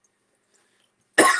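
A single short cough from a man on cough medicine, arriving abruptly at the very end after near silence, close and fairly loud.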